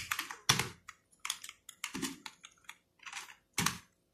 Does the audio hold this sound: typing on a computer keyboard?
yes